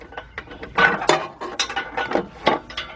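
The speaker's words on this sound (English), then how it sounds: "Get our wrench on it" Ratchet wrench clicking on a catalytic converter nut under a 2005 Nissan Pathfinder 4.0, close-up bursts of sharp metallic ratcheting with brief pauses between strokes.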